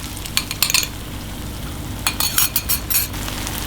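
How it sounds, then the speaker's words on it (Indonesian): Beaten eggs sizzle in a little oil in a pan while being stirred, with a steady frying hiss and scattered scraping clinks of a utensil, no talking. "Telurnya kita goreng."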